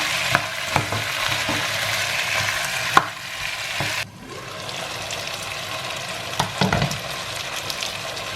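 Jamaican curry chicken sizzles and fries in a pot while being stirred. Scraping and clacking from the stirring punctuate a steady hiss, which drops abruptly to a quieter sizzle midway.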